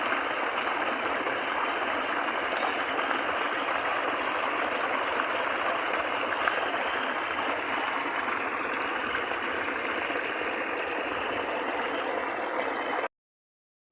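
Irrigation water pours into a dry field in a steady, broadband rushing flow that stays constant and fairly close until it cuts off abruptly near the end.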